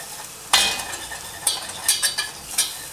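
Flour toasting in butter in a pan, stirred with a utensil: a quiet background sizzle broken by several sharp scraping strokes and clinks at uneven intervals, with no talking.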